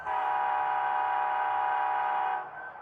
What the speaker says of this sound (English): 2 is going to be our long horn